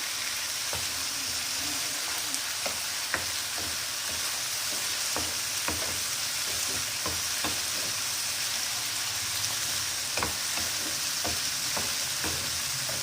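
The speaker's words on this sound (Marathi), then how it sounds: "आता आपण तेजपान टाकूया, त्याला सुद्धा परतून घेऊया।" Bay leaf sautéing in a pan of onion and dal for dal kanda: an even, continuous sizzle like light rain, broken by faint, occasional stirring clicks, close and without speech.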